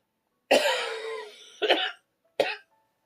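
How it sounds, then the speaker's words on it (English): Three coughs in a row: a long harsh hacking one first, then two shorter, sharper bursts with brief pauses between, close and loud. "Gonna cough though."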